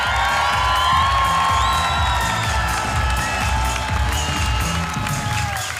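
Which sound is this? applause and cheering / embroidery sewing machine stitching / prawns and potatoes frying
applause and cheering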